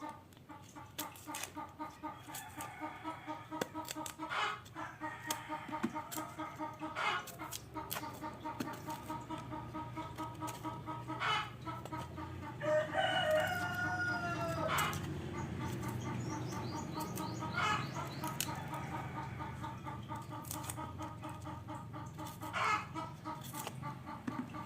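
Several chickens cluck and squawk steadily over a low background hum, with sharper calls and occasional knocks scattered through the whole stretch.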